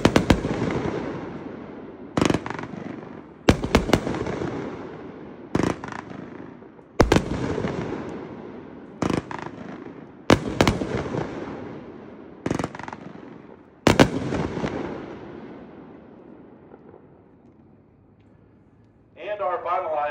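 Outdoor demo of a 25-shot 500 gram fireworks cake, with a string of loud booming bursts, each ringing out and decaying, fired at uneven intervals over about fourteen seconds before the noise fades away, with a voice coming in at the end.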